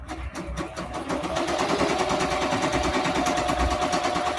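Embroidery machine stitching a design onto a shirt, a steady rapid mechanical whir and needle chatter running continuously, close and fairly loud, with no talking.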